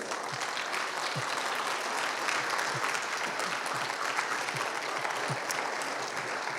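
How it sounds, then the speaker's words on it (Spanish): A church congregation applauds the Lord in steady, sustained clapping that fills the room at moderate distance, with no speech over it. "denle un aplauso al Señor en esta hora"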